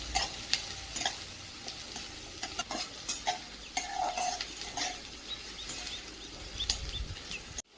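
Mustard seeds and onions fry in hot oil, a steady sizzle broken by frequent stirring scrapes and small crackles, close and fairly quiet.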